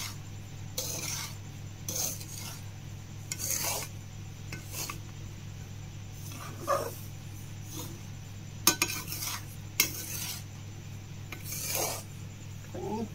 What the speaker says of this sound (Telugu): చూడండి ఇలాగా కొంచెం కొంచెం కలుపుతూ ఉండాలి.